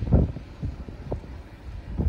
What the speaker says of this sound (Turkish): Ama şu an çok rüzgar olmuş.